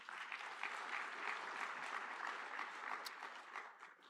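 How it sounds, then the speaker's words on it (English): A crowd at a graduation dinner and awards ceremony applauds with a dense, even wash of clapping. It sounds somewhat distant and fairly quiet, then tapers slightly at the end. "And another round of applause,"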